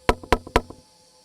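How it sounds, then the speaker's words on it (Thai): Light knocking on a bamboo wall: three crisp, evenly spaced knocks, each followed by a softer rebound tap, close and clear with no other sound. "ตามมาด้วยเสียงเคาะฝาไม้ไผ่เบา"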